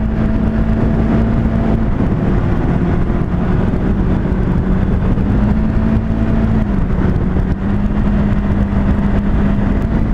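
A Can-Am Ryker 600 three-wheeler accelerates hard, its loud, steady engine drone climbing in pitch with a gear change partway through, no voices over it.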